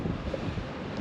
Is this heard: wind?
yes